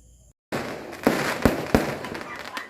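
After a brief gap, crackling rumble with three sharp firework bangs in a row, loud and fairly close, trailing into continued crackle.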